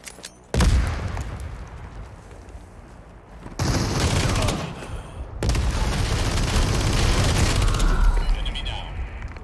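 Sharp gunfire bursts from the Super People battle royale video game, loud and close, with rapid volleys and booms over dense game noise, ending in a steady roar.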